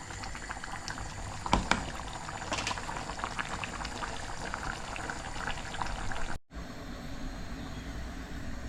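Water poured into a simmering dry fish curry with shrimp, a steady bubbling, boiling hiss up close with a brief splash, a short break, then continued bubbling.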